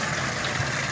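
Water pump motor running on a tilapia tank filter with a charcoal reservoir, a continuous steady hum and whir of even loudness with no pauses and no talking.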